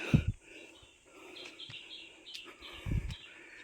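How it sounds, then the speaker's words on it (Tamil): Small birds chirp faintly along a Sathuragiri mountain trail, with scattered short calls and a few soft low thumps in between. "இந்த இடத்துல குருவிகள் சத்தக்கூடிய கேட்குதா?"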